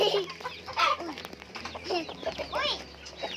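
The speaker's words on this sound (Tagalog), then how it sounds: "Go up, chicken!" Chicken clucking at close range, with short repeated squawks and clucks over a low steady background hum, in a farmyard setting.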